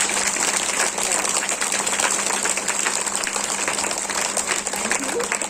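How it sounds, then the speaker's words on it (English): Audience applause for students after a school performance at an Independence Day celebration, a steady dense wash of clapping that fills the whole stretch at close, even loudness. "You don't want to clap for them?"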